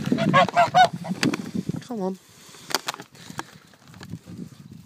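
Domestic geese honk loudly and close in several harsh bursts, with a falling squawk and softer clucking and rustling between, while a person speaks briefly over them.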